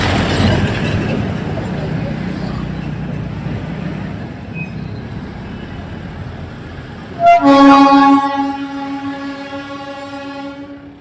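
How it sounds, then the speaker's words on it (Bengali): Darjeeling train passing right in front of a hotel: a low rumbling, noisy approach gives way to one loud, close, tonal whistle blast lasting about a second, then fading under the ongoing din. "হুইসেল বাজিয়ে ট্রেন চলে গেল আমাদের হোটেলের সামনে দিয়ে একদম"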